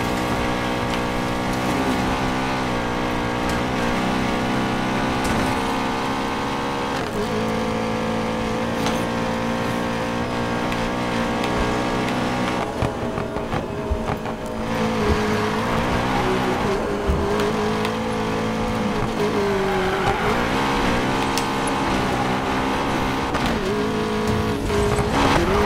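A BMW M5 in Need for Speed Payback, its engine droning steadily as it is driven, with gear shifts and rises in revs, brief tire squeals and one pitch sweep, loud and continuous with no voices.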